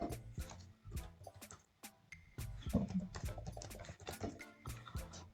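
Computer keyboard typing in a quiet room: a run of sharp, close key clicks in uneven bursts, including a firmer Enter press, with brief pauses between strokes.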